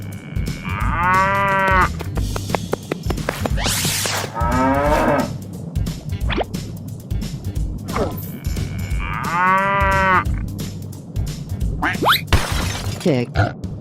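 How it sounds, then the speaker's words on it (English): A cow moos loudly twice, each low drawn-out call lasting around two seconds, over a constant background hum with brief clatters and some voice-like sounds between the calls. "Cow."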